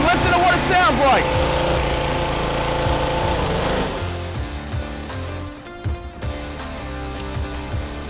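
A gas pressure washer engine rumbles steadily, then its running note sags and fades into an uneven, sputtering idle as it shuts down.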